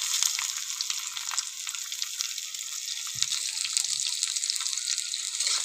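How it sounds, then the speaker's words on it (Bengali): Chopped onions frying in oil in a pan with bay leaves, dried chilli and whole cumin, a steady bright sizzle that runs unbroken throughout, up close, with a faint soft knock partway through and no talking. "লাল লাল করে একটু ভেজে নেবো।"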